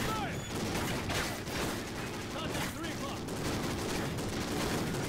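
Continuous video game gunfire from Call of Duty: Ghosts, dense overlapping bursts of automatic weapons forming a steady, loud barrage with battle noise, no pause throughout.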